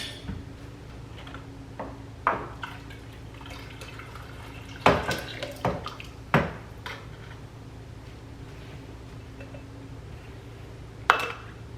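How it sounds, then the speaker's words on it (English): A glass jar is lifted from a simmering water bath canner, giving a few sharp clinks and taps spaced several seconds apart over a soft steady bubbling hum. "take a jar out of this simmering water bath canner"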